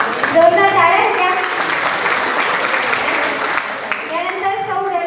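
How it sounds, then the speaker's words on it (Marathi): Applause from an audience at a women's achievement award ceremony, steady clapping filling the hall with voices talking over it near the start and end. "जोरदार टाळ्या द्या।"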